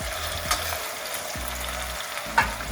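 Masala-stuffed plantain pieces slide into a pan of fried onion and tomato, setting off a steady close sizzle with a couple of sharp spatter pops.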